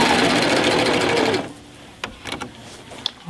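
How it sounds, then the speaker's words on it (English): A sewing machine with a walking foot sewing quilt binding runs loud and steady for over a second, then stops, leaving faint handling clicks and rustles. "then I'm going to turn it and sew off at a 45-degree angle."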